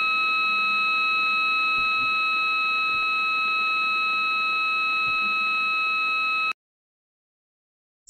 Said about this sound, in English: So this sign sound like this.